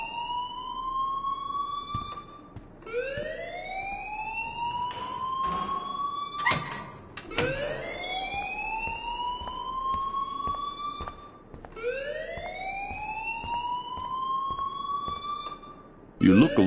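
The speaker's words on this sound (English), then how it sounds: "please turn off that alarm since that's your job" A school alarm in the video game Life Is Strange wails loudly in repeated rising sweeps, each tone climbing then restarting, cycling several times over about seventeen seconds, with a few clicks and background noise mixed in.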